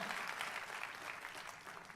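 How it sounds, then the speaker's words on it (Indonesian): Congregation at a church service applauding for Jesus, a broad, steady patter of many hands clapping together, faint and distant throughout. "yang siap tepuk tangannya yang paling meriah buat Yesus Tuhan kita"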